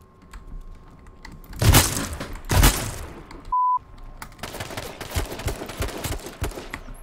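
Two loud, sharp gunshots crack close in H1Z1, followed by a brief tone and a stretch of rapid clicking that sounds like keyboard typing.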